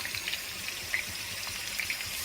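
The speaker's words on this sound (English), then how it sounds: "We add some water to the potatoes," A little water poured into a pan of potatoes frying with browned onions, giving a close, steady wash of hiss and bubbling with a few brief splashes, no voices.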